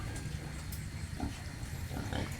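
Pigs on a pig farm, with low grunting and snuffling beneath steady background noise and occasional brief higher squeals.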